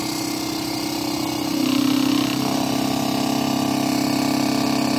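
A Gerard Morin pump motor running on 12 volts, weighted down with magnets, hums steadily and fairly loudly up close, its pitch shifting slightly partway through, with no talking.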